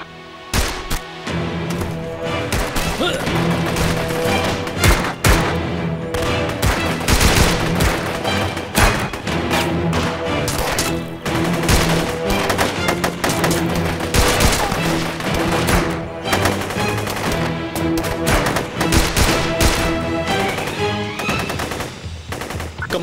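Sustained gunfire in a dubbed drama combat scene, with dense bursts of automatic fire and rapid single shots rattling almost continuously and loudly throughout, over a backdrop of soundtrack music.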